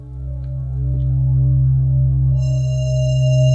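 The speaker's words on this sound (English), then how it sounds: "We have shimmering drones." A sustained, deep drone with layered steady tones, brightening partway through as higher shimmering overtones join in, swelling slightly in loudness.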